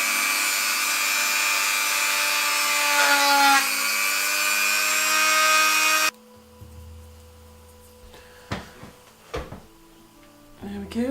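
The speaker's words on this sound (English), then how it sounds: "so I'm going to drill a hole in it now" A small power drill bores a hole through a hardened oven-baked necklace pendant, a steady high-pitched whine for about six seconds, then stops, followed by quieter handling knocks and scrapes.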